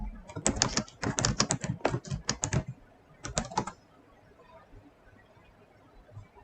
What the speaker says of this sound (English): Let me take this doggone bracelet off. It keeps clacking.